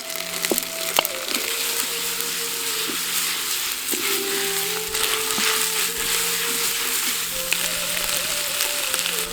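Ginger, garlic and shallots fry in oil in a clay pot for mutton biryani, giving a steady, close crackling sizzle with a few sharper pops throughout and no talking.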